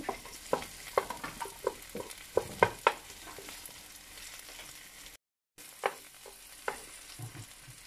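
Onions being sautéed in a pan while cooking ginataang santol, a quiet frying sizzle broken by sharp scraping clicks of a spatula stirring, with a brief silent gap partway through.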